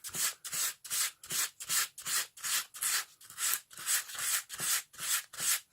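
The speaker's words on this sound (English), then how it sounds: "also sand the back of the cards in case there's any residue of glue on there" Playing cards having their backs sanded by hand to remove glue residue, about a dozen even strokes in one direction, each a crisp close scratchy rasp followed by a short pause, with no talking.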